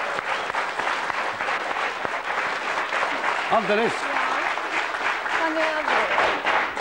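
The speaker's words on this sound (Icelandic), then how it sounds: "En við ekki bara gefa honum gott klapp" A television studio audience applauds in a loud, steady wash of clapping that lasts throughout, with a voice briefly speaking over it.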